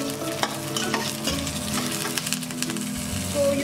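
Dhokla ingredients roast in a pan with a close, continuous sizzle, broken by scraping stirs and small irregular crackles.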